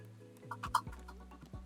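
A chicken in the video game Cult of the Lamb gives a few quick, faint clucks over soft background music tones.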